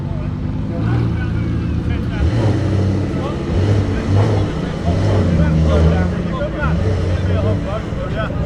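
A Lamborghini Revuelto fitted with a Gintani exhaust rolls forward at a Gumball 3000 gathering, its low engine drone holding steady and swelling slightly as it moves, while voices talk nearby over it.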